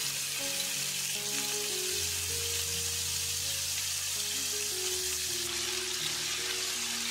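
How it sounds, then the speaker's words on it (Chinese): Slices of pork belly fry slowly in oil in a pan over low heat, giving a steady, continuous sizzle and crackle that stays even throughout, with no talking. "锅中倒入食用油，放入肉片煎制，"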